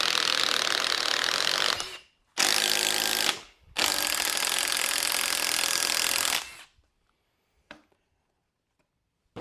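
A Metabo impact driver fitted with a 1-inch spade bit hammers loudly up close in two long rattling bursts with a short pause between, then falls quiet apart from a couple of brief clicks.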